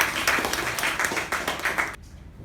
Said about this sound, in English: So with a huge round of applause